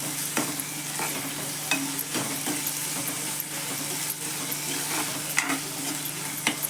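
Tomatoes and onions sauté in a pan with a low, steady sizzle, punctuated by sharp, irregular spatula taps and scrapes against the metal, close by and without speech.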